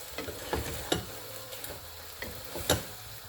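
Fish with salt and olive oil is stirred in a pan over a soft background sizzle, with a few sharp scrapes and clicks from the spoon spaced unevenly across three seconds, all fairly quiet and without speech.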